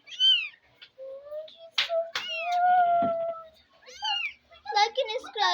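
A baby kitten meows repeatedly at close range, with high wavering cries and a longer drawn-out mew, while voices are also audible.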